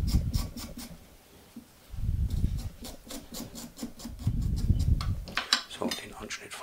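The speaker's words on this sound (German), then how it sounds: "Dann brauchen wir unseren Ingwer, schälen wir jetzt einfach mal" A knife scrapes the skin off a piece of fresh ginger in a kitchen, giving repeated short rasping strokes in uneven bursts, close and moderately loud with no speech.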